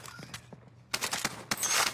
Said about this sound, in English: I hear footsteps here